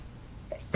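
A single sudden sneeze bursts out at the very end after quiet room noise, short and close.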